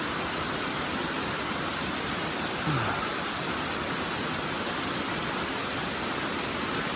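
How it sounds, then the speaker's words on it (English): A waterfall roars as a dense, constant rush of white water, loud and unbroken throughout, with no voices over it. "Listen to that waterfall."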